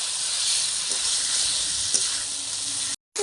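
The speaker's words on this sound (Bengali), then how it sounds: "এবার সিম আর আলু দিয়ে দেবো দিয়ে আরও দু মিনিট নাড়াচাড়া করে" Broad beans and potatoes stir-frying in a spice paste give off a steady, loud sizzle with soft stirring scrapes underneath, cut off by a brief silence near the end.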